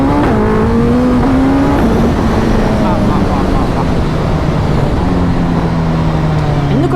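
A Suzuki Hayabusa superbike pulls hard on the road, its loud engine whine climbing and falling through the gears with continuous roaring wind rush, close and dominant throughout.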